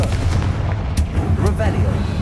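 A Confringo blasting spell from the Hogwarts Legacy video game goes off as loud, punchy booms over a low rumbling bed, with crackling bursts and debris-like rattles in quick succession.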